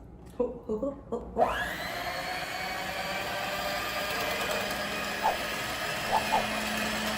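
An electric mixer whirs into pancake batter after a few soft knocks and voice sounds, then runs as a steady close motor drone with occasional brief bumps.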